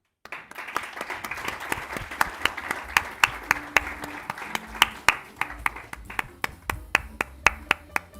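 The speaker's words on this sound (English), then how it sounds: "Let's clap for her, she comes up." Audience clapping at a SAICE presidential inauguration, starting as dense applause, then thinning into a few loud, close individual claps that ring out sharply, with quiet voices underneath.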